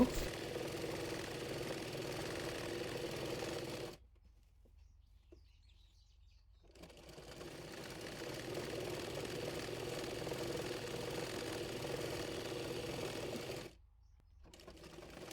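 A sewing machine stitches a kameez sleeve cuff in a steady close hum, stopping briefly twice before resuming, with a voice talking faintly in the pauses.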